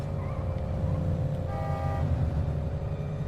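A car horn honks briefly in the middle of a busy street scene in The Godfather: The Game on PS2, rising over steady traffic rumble and city ambience, with no talking.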